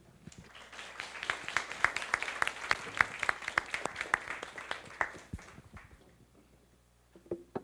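Audience applause at a press-club conversation event welcoming Taiwan's Vice President on stage: a steady room-wide patter of clapping with sharper individual claps, fading out by the sixth second before a brief sound near the end.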